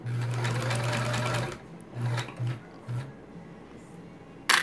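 Sewing machine stitching binding onto a quilt: a steady whirring run of stitches for about a second and a half, then several short bursts with pauses, ending in a sharp click.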